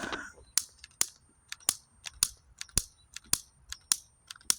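Black Beauty tube firecracker from Sonic Boom going off in a rapid string of about a dozen sharp, crackling pops at a steady, slightly uneven pace, fairly distant and quiet, with no talking.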